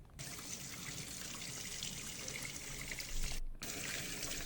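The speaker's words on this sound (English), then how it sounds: "showed her allegedly pouring the bleach into the machine" Bleach pouring into a washing machine, a steady liquid trickle and splash running continuously with one brief break near the end, fairly close and moderately loud.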